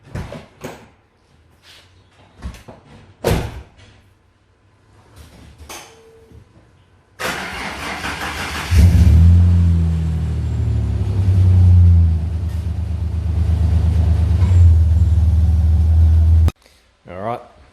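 A Ford Falcon EF XR6 engine cranks and starts after a few clunks and knocks, then settles into a loud, steady rumbling idle close by before cutting off abruptly.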